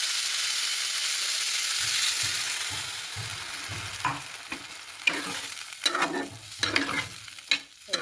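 Yogurt stirred into a frying vegetable curry with peas, a steady sizzle underneath irregular scraping and clattering spoon strokes against the pan that grow busier toward the end.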